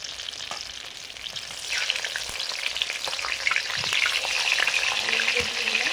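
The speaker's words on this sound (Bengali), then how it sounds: "মাংসের আলুগুলো ভাজবো সর্ষের তেল দিয়ে" Potatoes frying in mustard oil with dried chillies give a steady, close crackle and sizzle that swells a little louder about two seconds in and keeps going, with occasional stirring scrapes and no talk.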